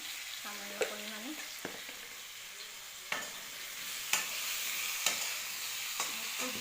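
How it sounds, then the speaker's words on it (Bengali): Potatoes frying in oil with a little turmeric make a soft, continuous sizzle, with sharp clicks and scrapes of a spatula stirring the pan every second or so; fairly quiet, no talking. "এখন দিচ্ছি একটু হলদি আলু ভাজার জন্য সামান্য পরিমাণে"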